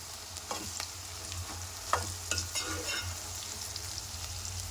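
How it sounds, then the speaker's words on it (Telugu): Radish pieces fry in oil in a pan, sizzling steadily and close, with a few scraping stirs cutting through and no voices. "ముల్లంగి ముక్కలు ఇలా ఫ్రై కావాలి ఆయిల్లో."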